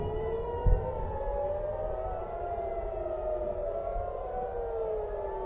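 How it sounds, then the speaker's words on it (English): Civil defense sirens wail over Tel Aviv in long rising and falling tones, several overlapping, sounding distant and sustained with a brief thump early on and no speech. "You can hear the sirens going off."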